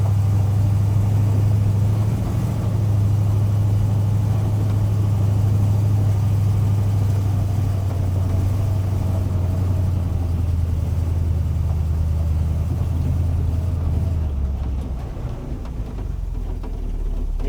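A 1953 GMC truck engine pulls uphill with a steady, loud, low droning hum that holds evenly before dropping away near the end.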